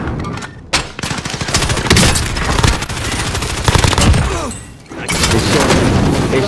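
Rapid bursts of video game gunfire fill the scene, loud and dense, with sharp shots crowding together and a short break before the firing picks up again. A voice may be faintly present beneath it.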